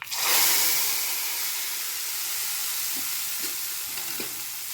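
Hot ajwain-scented tempering poured from the pan into a pumpkin and pea buttermilk kootu, giving a loud, close sizzle and hiss that bursts at once and then keeps crackling steadily.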